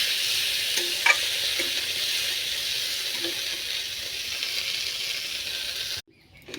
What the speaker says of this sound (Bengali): ফুলকপি আলুটা নুন হলুদ দিয়ে নেড়ে নিচ্ছি তেলে।